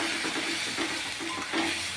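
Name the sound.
turmeric powder added to mutton cooking in hot pan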